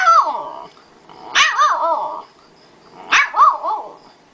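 A woman mimics small dogs with her voice, giving a yappy bark at the start and then two bursts of rapid, high-pitched yips and barks, close and fairly loud, separated by brief pauses.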